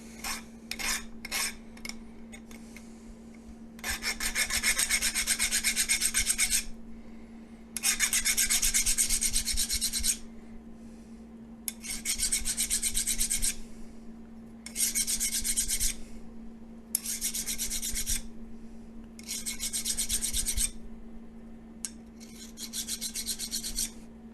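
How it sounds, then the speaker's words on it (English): A hand file rasps burrs off a gear freshly cut on a Deckel FP1 milling machine, in long, loud, rhythmic strokes separated by short pauses over a steady machine hum, with no talking. "we just hit the burrs flat on with file until we meet clean material"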